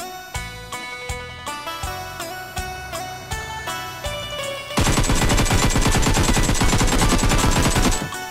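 Rapid automatic gunfire in a video game, first in spaced bursts over music, then a loud continuous barrage of shots as the player's parked car, a beat-up vehicle, is sprayed with bullets.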